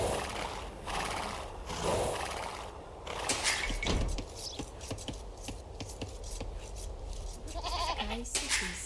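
Farm animal calls ring out in the Age of Empires strategy game, goat-like bleats and bleating cries scattered among clicks and short unit voice responses, with someone talking over the game sounds.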